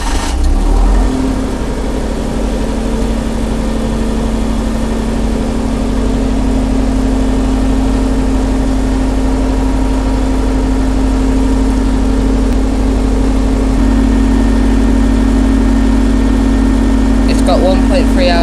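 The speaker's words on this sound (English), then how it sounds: "This is how you start the tractor. So you first obviously press the clutch down, turn the key, and it makes that noise." A new tractor engine starts and settles into a loud, steady idle close by, its constant rumble continuing to the end with a slight shift in tone partway through.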